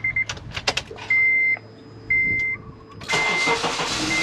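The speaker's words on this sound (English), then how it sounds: "Starting up the vehicle." A 2008 Honda Element is started: a few clicks and chime beeps, then the engine cranks and catches into a close, steady idle.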